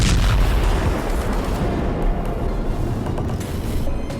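Explosion from an air strike in Qatar: a sustained, loud low rumbling roar with dense broadband blast noise that stays heavy throughout, strongest at the start and slowly rolling on without pause.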